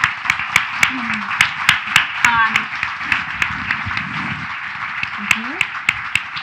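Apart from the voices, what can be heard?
audience applause for speakers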